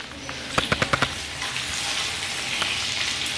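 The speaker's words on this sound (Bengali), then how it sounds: "এই আদা নুন একসাথে এই পটলের সঙ্গে ভালো করে ভেজে নেব।" Pointed gourd frying with ginger and salt in a pan on low flame, a steady close sizzle with a quick burst of four or five sharp stirring clicks near the start.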